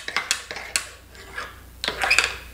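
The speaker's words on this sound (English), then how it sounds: "now stir that together" Dry homemade dishwasher detergent ingredients, including citric acid, stirred together in a container, with a spoon clinking and scraping against the sides in short, irregular bursts, close up.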